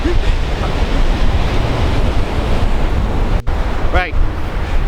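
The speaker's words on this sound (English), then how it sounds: "Today's kind of windy, shall we say." Strong wind on a beach in Eleuthera buffets the microphone in a continuous loud rush, with surf-like roar underneath and a brief gusty dropout near the end.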